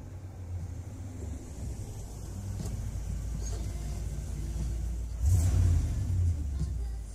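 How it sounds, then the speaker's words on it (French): Engine of the Regalia car from Final Fantasy XV rumbles low and steady, swelling into a louder rev near the end, with no talk over it. "Le moteur de la Regalia, ça."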